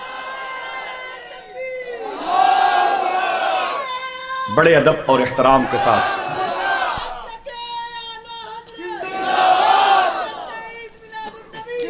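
A crowd at a religious gathering chants slogans of welcome in loud repeated bursts, with a speaker's amplified voice between the chants.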